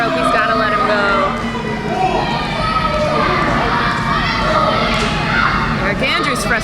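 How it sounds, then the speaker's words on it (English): Crowd at a CWF Mid-Atlantic wrestling event in Reading calling for a tap-out, loud sustained shouting and chanting close by that fills the whole stretch, with a commentator talking over it. "Crowd is calling for the tap here."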